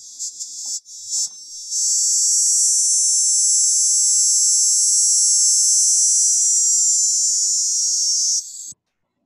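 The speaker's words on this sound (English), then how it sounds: "Dog day cicadas sound like this" A dog day cicada buzzing in a steady, loud, high-pitched drone that starts after a couple of brief stuttering bursts, holds for several seconds, then cuts off abruptly.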